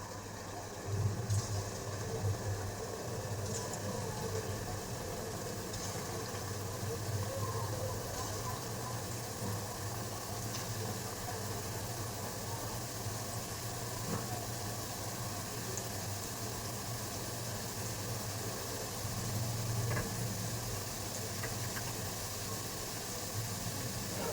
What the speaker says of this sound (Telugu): ఆయిల్ వేడైంది. గులాబ్ జామున్ దీంట్లో వేస్తున్నాను.